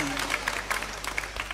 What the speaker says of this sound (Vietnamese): chúng con cho một tràng vỗ tay đi